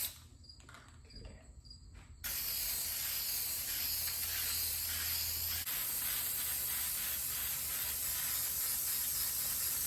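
An aerosol can of adhesive hisses in a long, loud, close, steady spray while coating the headliner board of a 2001–2006 Chevrolet Silverado or GMC Sierra crew cab.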